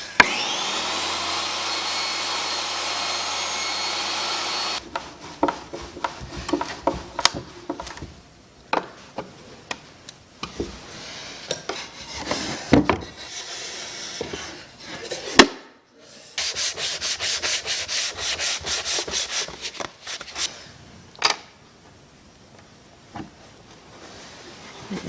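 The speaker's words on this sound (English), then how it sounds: "So I'm gonna go spark up the generator and get this cut and sanded" Power sanding on wood, heard close up as a loud, steady rubbing hiss, then broken scraping and ticking bursts, with a motor hum at the start from a running generator.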